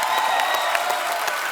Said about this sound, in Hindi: धर्मेश के लिए जोरदार तालियां यार।